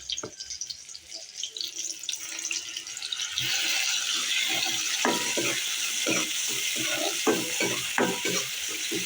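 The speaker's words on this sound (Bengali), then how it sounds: "কিছুক্ষণ নাড়িয়ে চাড়িয়ে নেব।" Garlic and onion fry in a pan, first with quiet clatter and a brief voice, then a sustained sizzle with repeated spoon-scraping stir strokes close up.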